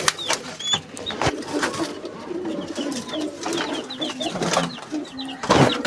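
Pet birds in a cage cooing in low, repeated dove-like calls at close range, mixed with scattered chirps, rustling and a few sharp knocks.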